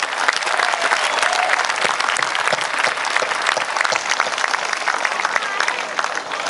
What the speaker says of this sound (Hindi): अच्छी बात पर अच्छी ताली बजनी चाहिए ताकि मंच अच्छी बात कह सके।